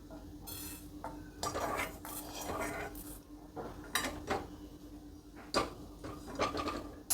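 A spoon scoops dry-roasted cumin seeds out of a hot pan, making faint irregular metallic scrapes and clinks against the pan, with no talking.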